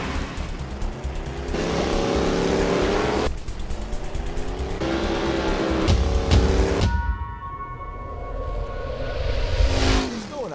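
A 1968 Pontiac Firebird drifting in Forza Horizon: a loud engine rising and falling in pitch as it revs through gears, then a sudden drop and a renewed climb, with no talking.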